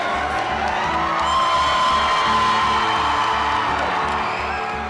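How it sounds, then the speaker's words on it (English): Crowd cheering at a baseball game as the Mariner Moose mascot is celebrated, a dense steady roar of whoops and shouts with a low rhythmic pulse underneath, swelling slightly in the middle and holding loud throughout. "There were cheers"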